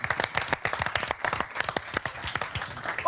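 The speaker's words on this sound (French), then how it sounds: "je vous demande d'applaudir Anna Marmiès, que je remercie pour sa présence ici" An audience applauds during a French talk show segment, the claps sounding as distinct, fairly sparse strikes close by for about three seconds, with a voice starting up at the very end.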